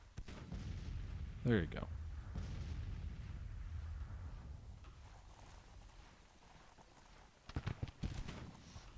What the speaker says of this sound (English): the enemy's firing into your rear and you're just taking it